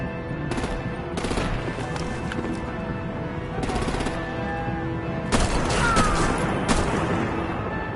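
Gunfire in Batman: The Enemy Within comes in several separate rapid bursts, moderately loud over a steady background, with a heavier volley near the end.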